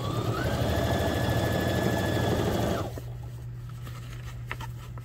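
A sewing machine stitches fabric for durable hockey or figure skate guards, running steadily and close for nearly three seconds before stopping, followed by a quiet hum and faint handling clicks.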